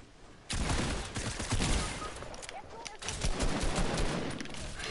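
Rapid bursts of gunfire in a Season 8 shooter game crackle through a dense stretch of combat, loud and sustained, with players talking over the shots.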